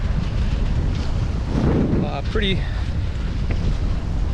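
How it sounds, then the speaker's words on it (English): Wind and choppy waves around a sailboat on the Choptank River in the Chesapeake, steady rushing wind buffeting the microphone over sloshing water, with a brief spoken word partway through. "These waves and wind are against the current, so it's a little rolly, a little choppy."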